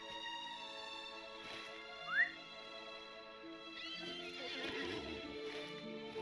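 A horse in the Lord of the Rings Online game gives a short neigh, and hooves clop softly amid a steady, layered musical ambience, with no voices.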